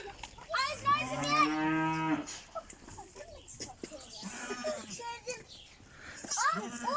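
Twin goat kids bleat for their mother in a village, loud, quavering calls stacked close together near the start, then shorter cries trailing off and a final bleat near the end.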